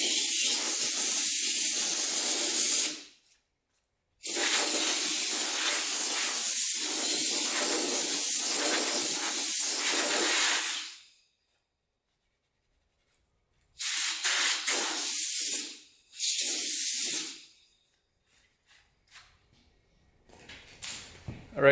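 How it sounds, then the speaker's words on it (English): An air compressor nozzle blows dust off a tire on a Suzuki LT 500 Quadzilla quad, loud close hissing bursts separated by silent gaps, with shorter blasts toward the end. "Then I'm going to take an air compressor and make sure all the dust is off of it."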